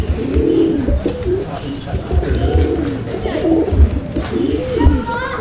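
Rampuri pigeons coo repeatedly in soft, low, rolling calls, close by, with occasional chirps and rustling around them.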